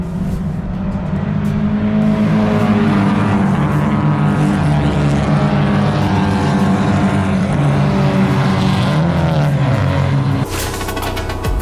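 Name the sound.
Porsche 944 race cars starting a race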